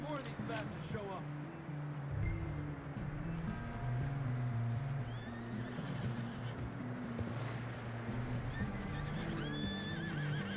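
A horse whinnies amid a noisy Red Dead Redemption 2 game soundscape with music and low rumbling, while a voice talks over it.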